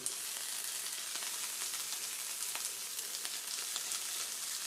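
Canned mushrooms sizzle with onions in a pan for cheesesteaks, giving an even, continuous hiss with faint crackles throughout, fairly quiet and with no talking.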